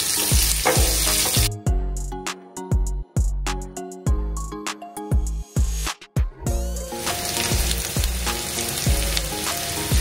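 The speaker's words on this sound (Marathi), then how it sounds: "एक बारीक कांदा चिरून मी इथे फोडणीला टाकलेला" Finely chopped onion fries in about two tablespoons of hot tempering oil with cumin, mustard seeds and curry leaves for a raw banana curry, a loud, dense sizzle broken by stirring and scraping that drops in and out.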